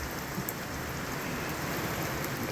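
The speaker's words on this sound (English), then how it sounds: "So much rain is just pouring down." Heavy rain pours down over a garden in a steady, dense hiss that fills the whole moment, loud and unbroken, with no voices.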